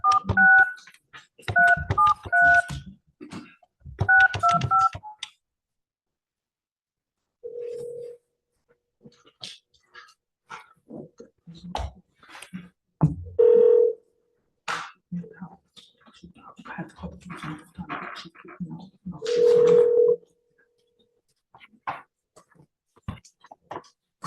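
A phone call being placed: bursts of touch-tone dialing beeps, then several spaced ringback tones in near silence, with brief talking between them before the call drops to voicemail.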